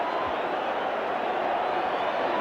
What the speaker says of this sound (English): this crowd has gone absolutely mad at Lane Park